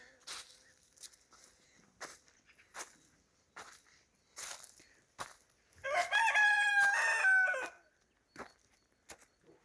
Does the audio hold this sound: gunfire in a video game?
no